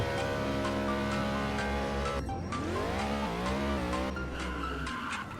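A race car in the Driving Empire video game roars around race track three, its engine droning loud and steady, then its tires squeal in long skids as it slides through corners, with the motor's pitch rising and falling.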